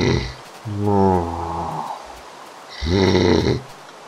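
Loud snoring from a person, two long rasping breaths close by with a pause between them, no talking.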